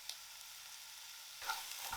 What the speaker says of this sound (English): then add onion and salt.